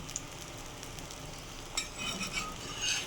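Wheat flour dough fritters fry in oil on a griddle, a soft continuous sizzle with light crackles and a few stirring clinks, growing slightly busier toward the end.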